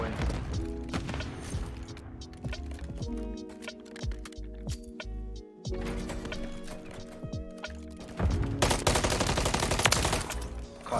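Rapid gunfire bursts crackle during Call of Duty MW3 ranked play, clustered volleys over game noise, with heavier shooting building toward the end.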